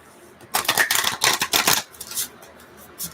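Quick rapid riffling bursts of tarot cards being shuffled, a few flurries in the first two seconds, then softer shuffles close by.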